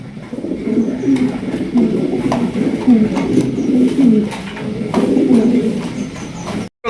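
Yellow Lahori pigeons in a cage give repeated throaty coos in close, rolling phrases, loud and near, over a faint room background with no speech.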